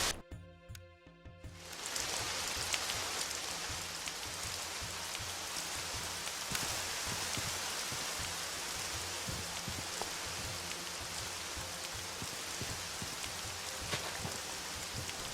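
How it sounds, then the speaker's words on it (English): Heavy rain in Minecraft TerraFirmaCraft sets in after a brief quiet moment, then pours as a dense, even hiss of drops for the rest of the clip. "That was a loud rain."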